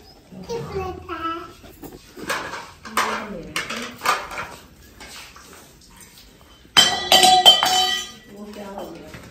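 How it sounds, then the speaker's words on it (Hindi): Metal dishes, pots and plates clatter and clink in bursts at an outdoor village kitchen while an iftar meal of pakoras and cut fruit is set out, with a loud crash of pans near the end and voices talking throughout. "बर्तन तोड़ रहे हैं, पता नहीं कौन आया हुआ है बर्तन तोड़ने वाला"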